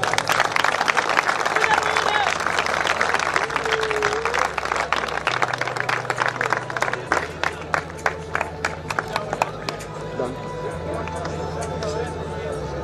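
Clapping from a crowd for award recipients at a school farewell ceremony, dense at first and then thinning into scattered louder claps. A steady low musical hum and murmur of voices run underneath.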